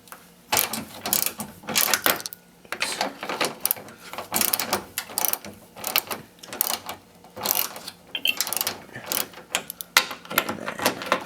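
A ratchet working a headlight bolt loose on a Subaru WRX, heard as quick repeated bursts of metallic clicking in an uneven rhythm, close and fairly loud, with no talking.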